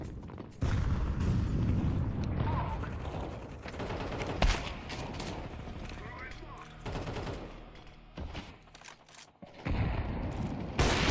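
Gunfire and a grenade blast in a shooter video game, with bursts of rapid shots, a sharp boom near the four-second mark and dense action noise throughout, while a player talks over it.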